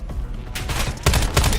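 Gunfire in Call of Duty Black Ops 7, rapid loud bursts of automatic shots in a short dense volley.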